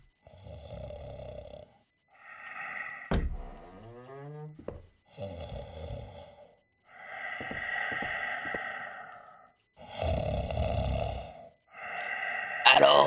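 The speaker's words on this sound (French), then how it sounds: "Alors, on ronfle comme un porc." Loud, exaggerated snoring from a character in the horror video game Scary Game 2, coming in long rasping inhale-and-exhale cycles with harsh nasal buzzing, repeated several times with short gaps and a sharp sound effect partway through.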